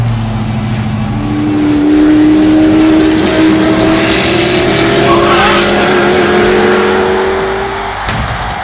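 A Hot Wheels diecast Ford GT40 toy car races down a plastic track and slides out of control, a loud rolling whir with a rising squeal-like tone that builds, holds and fades over several seconds.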